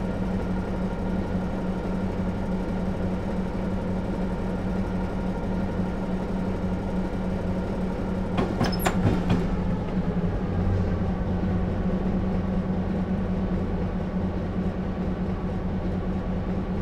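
An EMD SW15 diesel locomotive idles on a descent in Train Simulator 2015, a steady low engine drone with a constant hum, joined briefly by a few sharp clicks partway through.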